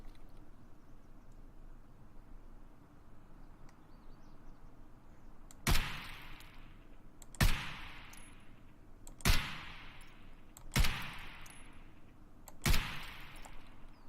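Five sharp, separate AK rifle shots from Escape from Tarkov, fired without a scope. They come about every one and a half to two seconds and stand out loudly against a low, steady background hum.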